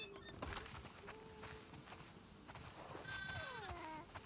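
Sheep bleat repeatedly in The Last of Us Part 2, several wavering calls from a small farm flock, faint and scattered, with a couple of overlapping bleats near the end.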